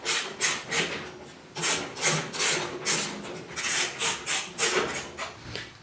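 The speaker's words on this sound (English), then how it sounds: "The nuts require a 1/2 inch socket, so we can run these all down until they're nice and snug." Nuts on a wheelbarrow frame run down with a 1/2 inch socket make steady, rhythmic rasping strokes at close range, about a dozen repeated pulls with no talking.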